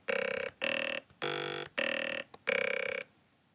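Five buzzy, synthetic vowel-like dubstep bass tones from the Massive synthesizer pulse one after another, each about half a second long, with short gaps and a few clicks between them.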